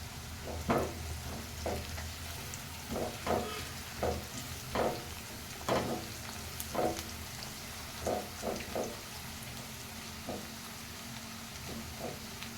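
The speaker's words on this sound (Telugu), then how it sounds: "ఆల్మోస్ట్ ఫ్రై అయిందండి ఆనియన్ ఇప్పుడు దీనిలోకి పసుపు వేసుకున్నాము" Onions with turmeric frying in a pan, a steady low sizzle broken by repeated scraping stirs at a loose, irregular rhythm, close and fairly quiet with no talking.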